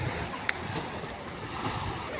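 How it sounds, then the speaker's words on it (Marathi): Sea waves wash steadily onto Devka beach in Daman, a soft continuous surf rush with wind noise, moderately quiet, with a few faint clicks and sounds of people nearby. "तर मग असा हा समुद्र आहे. दमनचा बीच आहे हा."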